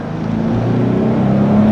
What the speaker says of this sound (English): I'm going to load up just a little bit on the torque and let it go. Here it goes. I've got it floored.